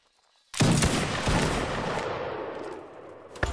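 A musket volley crashes out in a Napoleonic Wars line battle video game: a sudden loud crackling burst of many near-simultaneous shots that rolls and slowly fades, followed by a single shot at the end.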